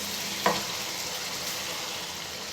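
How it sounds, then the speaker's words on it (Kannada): Brinjal curry with masala being stirred in a pan, a soft steady sizzle throughout with one sharp scrape of the spoon near the start. "ಹಾಕೊಂಡು ನೀಟಾಗಿ ತಿರುಗಿಸೋಣ"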